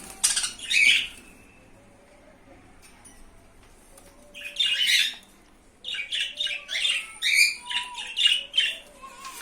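Budgerigars give sharp, loud squawks in bursts, one short outburst and then a longer, rapid run of harsh calls, as a female reacts to a male in a quiet room.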